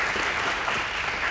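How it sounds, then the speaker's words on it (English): A lecture audience at a university claps together, a dense, steady burst of applause heard from within the room. "everyone applaud John Paul Basada from CSC for coming"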